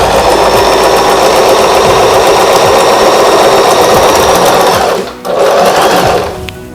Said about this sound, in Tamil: இப்போ ஃபுட்டர் இறக்கிட்டு ஸ்டிச் போடுறேன்.